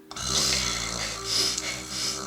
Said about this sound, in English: My boyfriend snores.